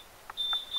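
An alarm timer for sanitising bottles in a home brewing setup, a steady high electronic tone sounding for most of a brief moment alongside a couple of soft muffled knocks, close and without talk.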